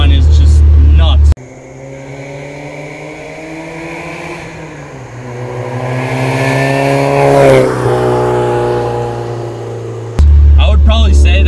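Supercharged 1991 Mazda Miata with a '97 M Edition drivetrain swap, its engine revving with a strong rising and falling supercharger whine, loud and close, framed by brief bursts of talk at either end.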